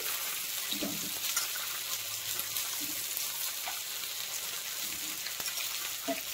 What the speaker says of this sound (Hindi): सेथरे मु आलूटा को भाजी लेबी